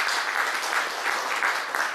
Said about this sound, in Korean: 박수로 우리 격려하십시다